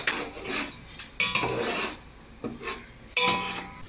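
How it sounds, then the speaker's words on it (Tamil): A metal ladle scrapes and clanks against a large cooking pot while onions are stirred for tomato rice for 25 people, with repeated close scraping strokes and metallic knocks. "அதை ஒரு 2-3 நிமிஷத்துக்கு நல்லா கலந்து விட்டுக்கலாங்க"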